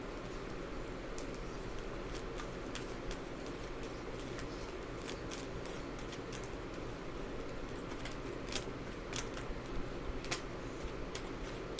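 Tarot cards are shuffled continuously at close range, a dense papery riffle of crisp snaps and flicks over a steady faint room hiss.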